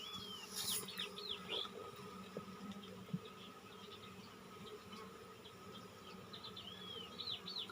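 Dense, steady buzzing of many honeybees close by inside a hive, with a few faint bird chirps in the background.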